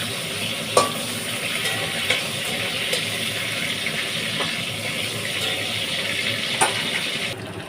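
Cumin seeds tempering in hot oil with ginger, garlic and onion paste, sizzling steadily in a pan while a spoon stirs and scrapes now and then, giving a few sharp clicks over the constant close fry.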